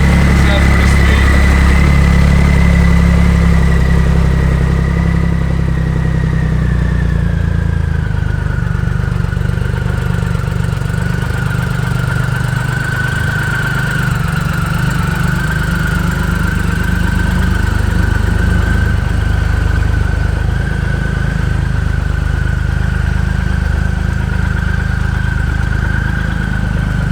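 The engine of a 2010 Triumph Rocket 3 Touring motorcycle idles steadily and loudly for the whole stretch, a low, even rumble with a faint whine, while people talk over it.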